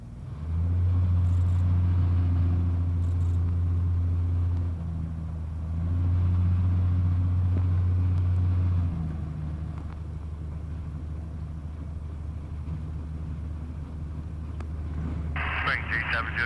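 A Sonex light aircraft's engine drones loud and steady during departure from runway 35, holding a low rumble before settling into a softer, continuous hum with brief radio-like bursts.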